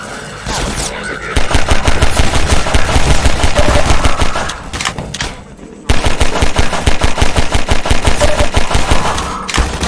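Rapid, loud automatic gunfire in Half-Life 2: Episode One, long sustained bursts of machine-gun fire broken by a brief pause, with voices under the shooting.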